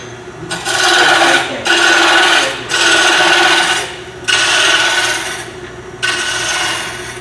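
A wooden bowl spins on a lathe while a bowl gouge rounds it off, producing loud rasping cuts in five long passes separated by brief quieter pauses of the motor.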